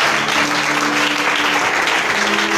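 A church congregation applauding loudly and steadily, dense clapping from many hands filling the room, with faint voices mixed in.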